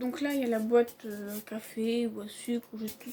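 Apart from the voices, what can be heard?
No everyday noise stands out behind the speech.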